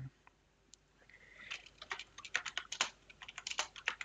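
Someone types a password on a computer keyboard, the crisp clicks starting sparse and then speeding into an irregular run of close, fairly quiet keystrokes over faint room hiss.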